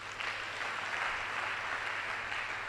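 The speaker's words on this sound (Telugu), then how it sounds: "కొట్టో చప్పట్లు ఒకసారి" A church congregation clapping together during a sermon, a dense, steady wash of applause that is close and sustained, with no voices rising above it.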